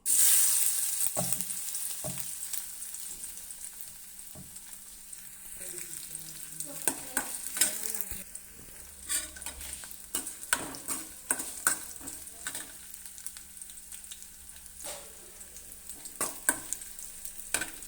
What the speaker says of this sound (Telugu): అల్లం ముక్కలు అయితే బాగా వేగాలి ఇవి